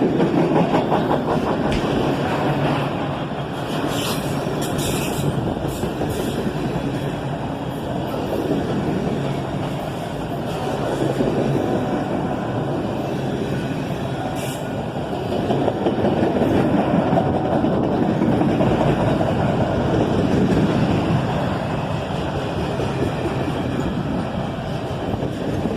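A CSX southbound auto-rack freight train behind ET44AH and ES44ACH locomotives rolls past, a loud continuous rumble and clatter of cars over the rails with wind buffeting the microphone.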